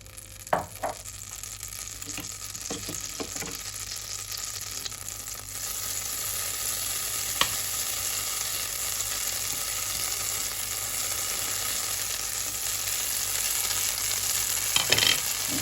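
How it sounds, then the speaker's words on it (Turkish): Butter sizzles steadily in a hot frying pan with diced beef, a continuous crackling hiss with a few clinks of utensils near the start and end. "Şimdi tavamıza tereyağını koyuyoruz arkadaşlar."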